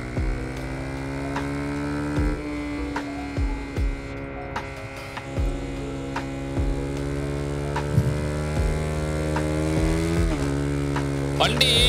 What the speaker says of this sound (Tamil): வண்டி வந்து பார்த்தீங்கன்னா எக்ஸாஸ்ட் சவுண்டு வந்து ஃபுல் ஆர்பிஎம்ல ஓட்டுறதுனால